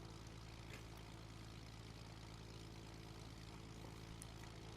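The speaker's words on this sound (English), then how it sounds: "Let's see this Baron take off." Beechcraft Baron twin propeller plane in a flight simulator game, a steady droning engine hum with tonal bands, continuous and fairly loud throughout with no speech.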